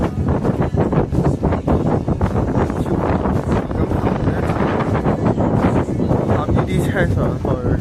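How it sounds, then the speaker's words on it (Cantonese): Strong, gusty wind buffets the microphone at a lookout near the Arrowtown bungy site in New Zealand, a loud, constant roar with voices faintly underneath. "但係真係超級大風啊！"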